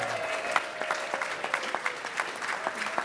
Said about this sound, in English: I think you're going to get another round of applause.